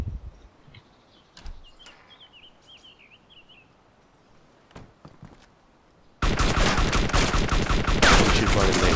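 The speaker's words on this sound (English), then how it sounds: "Who's the guy shooting the suppressor?" Suppressed gunfire in the survival game DayZ: several faint, soft muffled pops spread over a quiet outdoor scene, followed by a sudden burst of dense, loud noise near the end.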